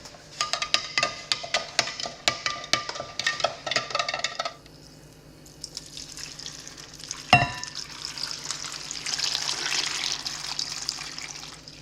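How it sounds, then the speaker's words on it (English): Water runs from a tap into a container, a steady gushing hiss after some clinking and stirring, with a sharp knock partway through, close and fairly quiet. "And I'm going to fill this with water."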